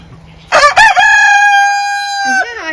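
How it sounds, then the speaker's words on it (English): A rooster crows once, loud and close, a long sustained cock-a-doodle-doo ending in a downward trailing note, after a couple of short clucks. "You're a noisy rooster, huh?"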